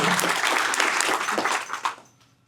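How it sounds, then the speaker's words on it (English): Dense crowd applause filling the room, steady for about two seconds before tapering off to quiet. "Let's give her one more round of applause."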